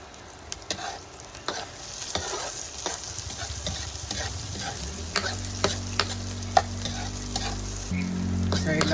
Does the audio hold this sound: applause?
no